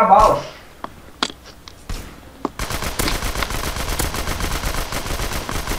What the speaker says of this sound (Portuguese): Vou dar um tiro de PDW